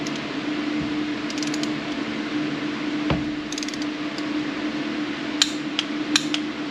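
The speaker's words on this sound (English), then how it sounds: "now use the torque wrench, tighten" A torque wrench tightens the catalytic converter bolts on a 2009 Chevrolet Aveo, with a steady mechanical hum and a few sharp metallic clicks and ratcheting taps, close by, near the end.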